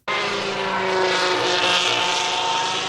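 A 2026 Racing Bulls Formula 1 car engine roars loudly and continuously at high revs, a dense buzzing snarl with a steady pitch throughout.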